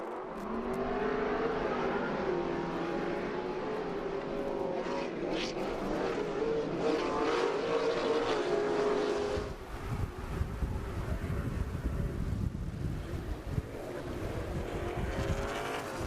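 Formula 4x4 off-road race trucks at a TORC race at Crandon roar away from the start, engines revving hard with a rising pitch before a broad rumbling wash of many vehicles, heard from a distance with wind noise.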